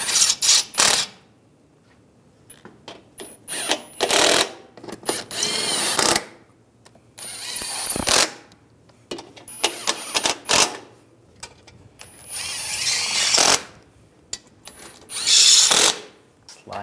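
A ratchet tightens exhaust manifold bolts on a 2013-2016 Dodge Dart, with bursts of rapid clicking ratcheting separated by pauses and short mechanical clinks close by.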